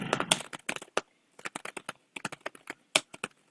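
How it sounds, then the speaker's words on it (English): Typing on a computer keyboard in Microsoft Word, quick irregular bursts of crisp key clicks with short pauses between, close and distinct, with no talking. "and then I'd start typing again."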